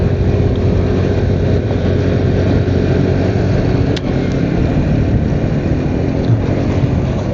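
A Modenas Avantiz motorcycle engine hums steadily on the road, heavily overlaid by roaring wind buffeting the microphone throughout, with one brief click midway.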